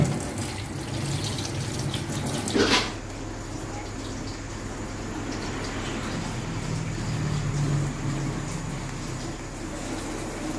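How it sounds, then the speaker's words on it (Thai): Pork ribs being washed under a running kitchen tap, a steady close rush of water splashing into a sink throughout, with a brief louder splash partway through. "ล้างเอามันออก ล้างให้สะอาด"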